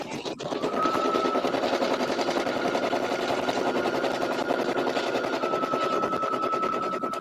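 An embroidery machine running steadily, with a dense rapid needle chatter and a constant mechanical hum, close and loud throughout with no pauses and no talking.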